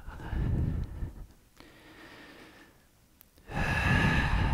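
Slow, audible breaths during yoga practice: a loud exhale, a quieter stretch of softer breathing, then another strong breath near the end, close and unaccompanied by talk.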